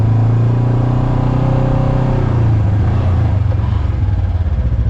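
A 2026 Polaris RZR Trail Ultimate side-by-side engine, loud and close, holds a steady low rumble that shifts slightly as the throttle opens, with a rough clattering edge toward the end.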